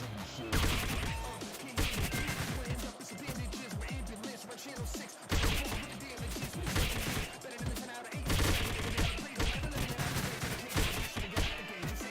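A launcher weapon in a video game fires again and again, producing dense, loud volleys of explosive blasts and crashes that run continuously with hardly a pause.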